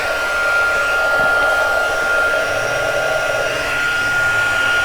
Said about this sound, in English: while I bring in the heat gun